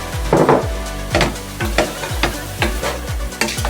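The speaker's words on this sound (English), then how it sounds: "And now we're gonna go ahead and add in our vegetable. We're just going to be saute it." Rainbow vegetables for healthy fried rice sauté loudly in a pan, a steady close sizzle broken by regular scraping stir strokes about every half second.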